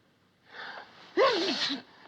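A single sneeze from an actor in the 1963 film Charade: a short breathy intake followed by a sharp, voiced burst, close and fairly quiet against a silent background.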